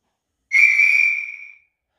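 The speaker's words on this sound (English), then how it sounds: "Function 23 is your guard's whistle." A guard's whistle from a Hornby R7140 class 43 HST Valenta sound decoder gives one loud, shrill, steady blast of about a second that tails off cleanly into silence.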